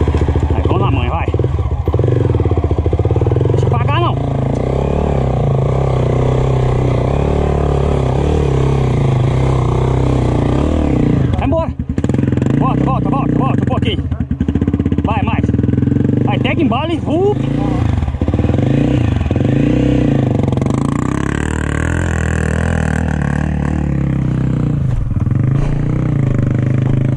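A Yamaha XTZ 300 motorcycle engine runs up close on a trail, with rough idle and occasional revving and some clattering, heard under frequent conversation between people.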